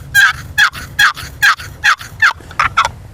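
Loud, close turkey call imitating a gobbler's yelp, about ten evenly spaced raspy yelps, with the last few coming quicker, and no talk over them.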